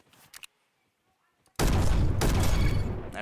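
Gunfire erupts in the Roblox shooter Bad Business, a dense, loud burst of rapid shots filling the second half after a near-silent stretch with a few faint clicks at the start.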